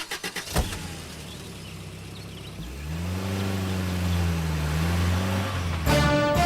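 A car starts up and pulls away, its engine rising into a steady hum that grows louder, after a few knocks at the start and a brief squeal at the end.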